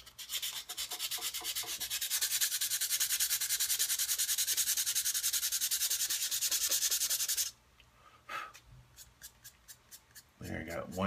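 Sandpaper is rubbed by hand over a small Millennium Falcon model part in a quick, continuous scratching run lasting several seconds, close up, then a few lighter strokes after a pause.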